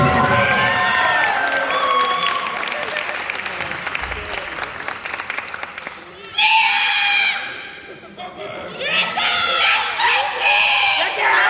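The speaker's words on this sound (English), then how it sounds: "So real quick round of applause for this year's awesome" An audience claps loudly with some cheering, the applause fading briefly before swelling again, mixed with voices.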